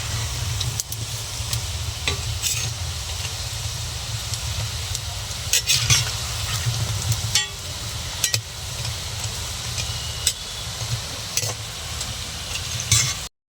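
Palm fruit fritters (taler bora), a traditional Bengali sweet, deep-frying in oil over a slowly tended stove, with a steady, dense sizzle and frequent crackles and pops running throughout.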